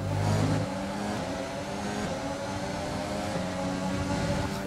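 A Formula 1 car engine in the F1 2020 racing game, a loud, steady high-pitched drone held at speed with a brief gear-change dip near the start, close and continuous with no talking.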